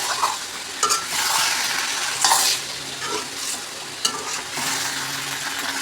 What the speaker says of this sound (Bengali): এবার ভালোভাবে নেড়ে চেড়ে দেবো।